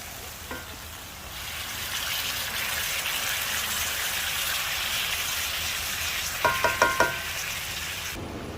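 Beef and broccoli fry in a cast iron skillet with a steady, loud sizzle, and a few quick scraping clicks sound as the food is stirred around near the end.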